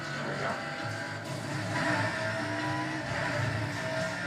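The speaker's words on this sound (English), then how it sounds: "The cars have a really demonic sound to them." Car engines in the racing video game Burnout Paradise Remastered, a continuous rough, growling engine drone with shifting tones, steady and fairly loud throughout.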